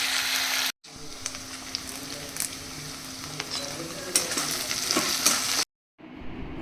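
Onion, thin potato chips, frozen peas and peanuts frying and being stirred in oil for poha, a steady close sizzle with scraping and clinks, broken by two short silent gaps.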